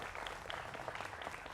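Studio audience applause on a televised Delhi election debate show, a brief steady burst of clapping from a crowd.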